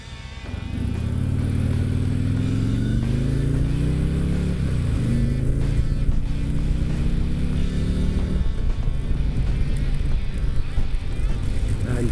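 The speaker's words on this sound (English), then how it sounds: "Riding fast in the rain." Motorcycle ridden fast in the rain, a loud close engine drone rising in pitch through the gears and then holding steady over constant wind and road noise.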